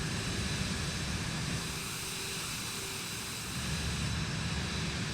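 A Cirrus Vision Jet SF50 in the MSFS 2024 simulator climbs just after takeoff, its jet engine giving a steady, broad roar and hiss that holds at a constant level with no voices over it.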